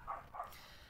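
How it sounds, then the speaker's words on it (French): A dog barks twice in quick succession, faint and distant, in a quiet garden beside a greenhouse, followed by near silence. "excusez-moi pour le chien, il aboie."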